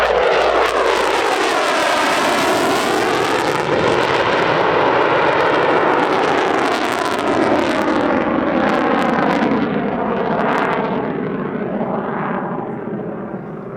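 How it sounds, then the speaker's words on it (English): A US Navy F-35C jet from squadron VFA 125 roars past at an airshow, a loud, continuous engine blast that swells and shifts in pitch as it passes, then slowly fades. "But it is the US Navy that kicks things off, an F-35C from VFA"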